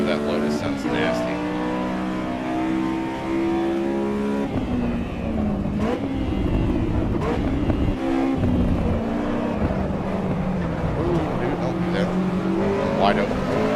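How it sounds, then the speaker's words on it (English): Lotus car engine revving hard and shifting through gears over several seconds, loud and continuous, with a person talking over it. "that Lotus sounds nasty"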